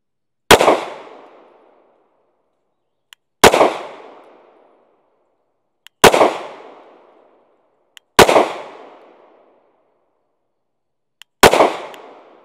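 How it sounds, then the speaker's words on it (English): Five gunshots are fired at a target one at a time, each a sharp, loud crack with a decaying echo, spaced a few seconds apart against an otherwise silent background. "we done 5 more rounds on the target to see how well the optic actually kept its zero"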